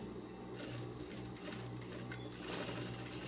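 A sewing machine stitches a dart on a tailored vest, running as a steady, quiet mechanical whir with a rapid stitching rhythm.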